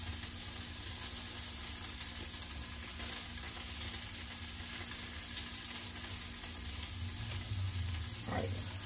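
Bacon frying crispy in a pan, a steady close sizzle and crackle with a faint clink near the end, alone without talk.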